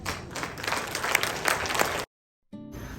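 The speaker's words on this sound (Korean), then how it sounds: "많은 박수 부탁드립니다." Concert audience applauding a band performance, lively dense clapping for about two seconds that cuts abruptly to silence, then a faint quiet tail resumes.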